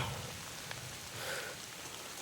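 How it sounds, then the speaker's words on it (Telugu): Steady rain falling, a soft continuous patter with a faint drop or two standing out. "వర్షం వచ్చేస్తుంది"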